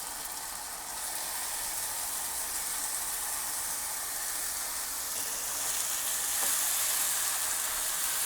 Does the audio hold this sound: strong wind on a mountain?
no